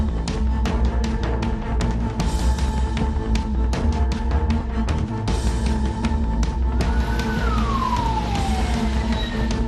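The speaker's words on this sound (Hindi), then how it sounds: "ट्रैफिक में मुख्तार की एम्बुलेंस अटकी तो मुख्तार के परिवार की सांसें भी अटक गई।" An ambulance siren wails loudly while stuck in busy traffic, its tone sweeping downward near the end, with sharp clicks and engine rumble underneath.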